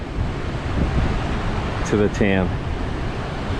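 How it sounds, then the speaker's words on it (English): Strong, gusting coastal wind of around 50 km/h roars steadily with surf noise in the background, while someone speaks a few words over it. "got to be 50k winds and gusting even more at times"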